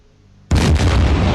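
In the submarine game Silent Hunter 4: Wolves of the Pacific, a sudden, loud ship explosion bursts in after half a second of near silence, then a sustained roaring rumble continues to the end.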